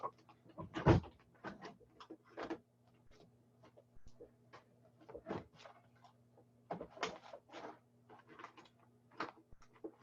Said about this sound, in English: Oh dear, I have to close my desk drawer.